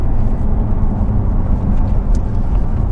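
A Porsche 911 Targa 4S accelerates hard, its engine a steady, loud, dense rumble with no break and no one talking over it.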